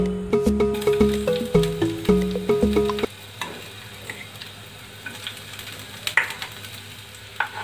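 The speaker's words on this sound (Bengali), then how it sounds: "তেলটা গরম করতে বসিয়ে দিয়েছি। এবার আস্তে আস্তে পেঁয়াজগুলো দেবো তেলের মধ্যে।" Onions frying in hot oil: a few seconds of tuneful music give way to a steady, close sizzle with occasional sharp stirring clicks. No one speaks.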